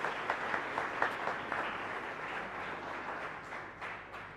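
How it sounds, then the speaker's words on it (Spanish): A congregation at Mass in the Capilla Caacupemí chapel in Fernando de la Mora, applauding steadily at moderate distance, a continuous patter of many hands that slowly thins out. "muchas gracias con este fuerte aplauso que le vamos a brindar"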